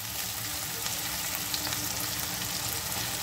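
Loitta fish fry in a pan of oil, giving an even, moderately quiet sizzle that holds steady through a short stretch with no talk.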